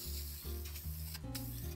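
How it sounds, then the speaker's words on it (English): Krylon Crystal Clear Flat sealant sprayed onto a stained wooden clock, short hissing bursts from the aerosol can, close and faint, with brief breaks between sprays and no talk. "I'm going to give it a little spritz of Krylon Crystal Clear Flat"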